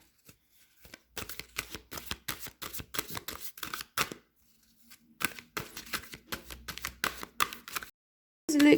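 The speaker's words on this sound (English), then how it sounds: "I'm gonna pull out a Rumi card." Oracle cards shuffled and drawn from a Rumi deck, a run of quick papery riffles and flicks with short pauses, close and fairly quiet, ending in a louder handling rustle.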